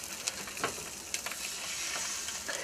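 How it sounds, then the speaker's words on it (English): Sausage frying in a hot oiled pan gives a steady, mild sizzle with scattered crackles and soft pops, close by, with no talk over it. "Doesn't have quite the sizzle I was hoping for."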